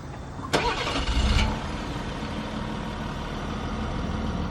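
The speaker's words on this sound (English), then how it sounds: "we're going to listen to the exhaust note, of course." A Ford F-150 with the 3.0L Power Stroke diesel starting up, a sharp crank and brief rev that settles into a quiet, steady low idle rumble heard up close.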